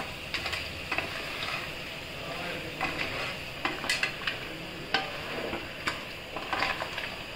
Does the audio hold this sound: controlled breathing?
no